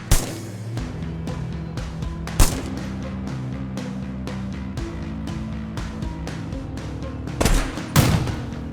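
Frag grenades exploding in the Ratten Reich war video game, sharp booms at the start, near the middle and near the end over a steady bed of battle noise and scattered gunfire.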